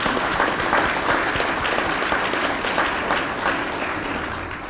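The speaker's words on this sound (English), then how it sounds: "We should give them all a round of applause." Audience applause for Regions Hospital staff in St. Paul at a ceremony honoring first responders: steady, dense clapping from a sizable crowd that holds at full strength throughout and eases only slightly at the end.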